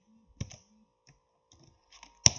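A computer keyboard as a URL is typed, a handful of scattered, sharp key clicks with silence between them, ending in a louder final tap.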